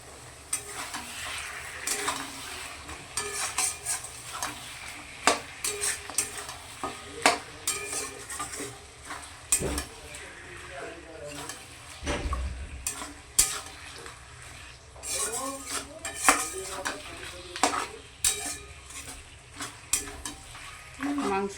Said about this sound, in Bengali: মাংস কষতে স্টার্ট করেছে